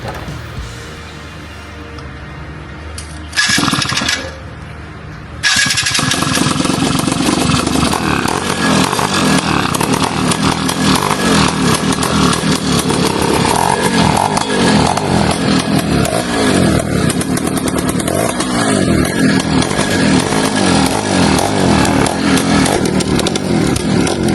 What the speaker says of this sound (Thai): ลองติดเครื่องฟังเสียงหน่อย